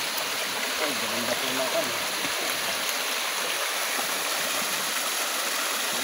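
Steady broadband rush of a river current flowing near a waterfall in Calauag, Quezon, constant and close throughout, with someone speaking briefly over it early on.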